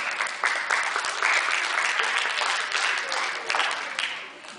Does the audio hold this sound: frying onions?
no